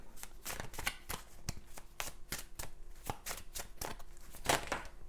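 Tarot cards being shuffled and drawn, a quiet series of soft flicks and riffles close by.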